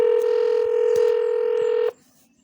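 A telephone keypad in the Roblox video game sounds one long, clear dial tone that holds steadily for about two seconds and then cuts off, leaving near silence.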